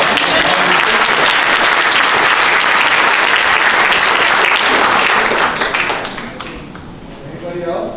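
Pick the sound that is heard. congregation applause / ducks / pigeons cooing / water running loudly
congregation applause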